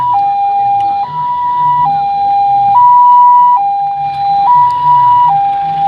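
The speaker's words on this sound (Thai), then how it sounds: "อันนี้เป็นรถตำรวจเด้อพี่น้องเด้อ" A police car siren in a city pillar procession wails loudly and close by, alternating between two pitches in a steady high-low pattern.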